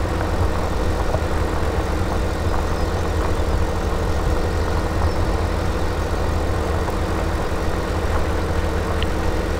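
A New Holland TA320 tractor engine idles in Farming Simulator 2017, a steady, loud low rumble with constant mechanical drone and no change in pitch, alone without talk.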